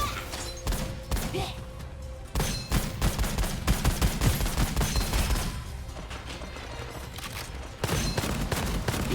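Rapid gunfire in a shooter video game comes in dense, loud bursts, sometimes in long runs, with a thump or two between volleys and voices talking over the shooting.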